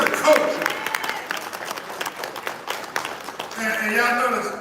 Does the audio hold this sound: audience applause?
yes